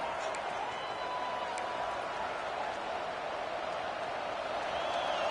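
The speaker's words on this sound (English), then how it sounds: "Decibels rising as the crowd gets behind this defense on third down." A Kennesaw State football stadium crowd roars at a steady, dense level as the defense lines up on third down, a continuous wash of cheering without distinct breaks.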